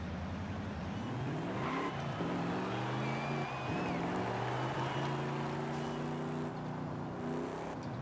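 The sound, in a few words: truck engine driving and drifting in video game Forza Horizon 5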